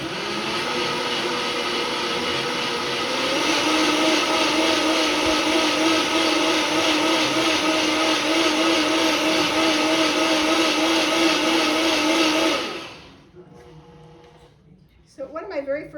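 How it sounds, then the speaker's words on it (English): Countertop blender whirring steadily as it purées tomato sauce with onion powder, a loud continuous motor drone for about twelve seconds before cutting off abruptly, followed by quieter kitchen sounds. "So we're gonna go ahead and blend this up real quick."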